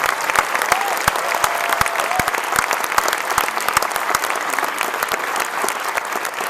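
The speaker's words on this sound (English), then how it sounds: "So can we give them a big round of applause?" A large audience applauds honor band students, steady dense clapping with sharp individual claps standing out, sustained at an even level throughout, with a faint tone or whistle briefly audible early on.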